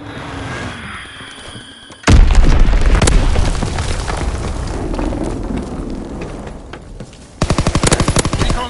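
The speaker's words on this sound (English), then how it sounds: "Dropping Fritz X bomb. Enemy bomb incoming. Get to cover." Heavy bomb blasts and rapid machine-gun bursts roar in a PS4 war video game, loud and continuous, and a fast rattling volley closes the clip.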